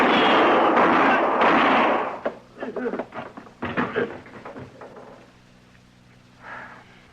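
A loud gunshot in an old-time Western radio drama, a single sharp blast with a long rumbling tail, followed by scuffling and shifting sounds with voices talking nearby.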